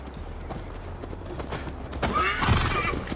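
Horses in Assassin's Creed Valhalla whinny and clip-clop close by, with a steady trot of hooves and a sharp neigh near the end, fairly quiet overall.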